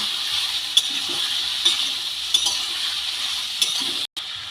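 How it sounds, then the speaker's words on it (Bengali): Potato and onion pieces frying in oil and being stirred, a soft, even sizzle with a few faint utensil scrapes at regular intervals, heard alone, ending with a brief cut. "তেলের মধ্যে আলু আর পেঁয়াজ খুব ভালো করে নেড়ে নেব"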